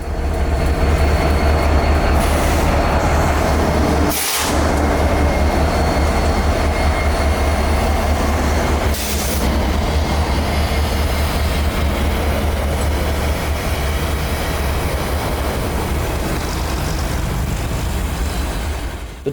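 A loaded unit freight train rolls past on a siding with a steady, heavy low rumble of rail cars and wheels, two brief squeal bursts cutting through, continuing loud throughout as it slows toward a stop.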